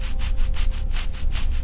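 Grime scrubbed off Harley-Davidson motorcycle parts during an engine rebuild: loud, close, steady back-and-forth rubbing strokes in a quick rhythm, about six passes with no voices.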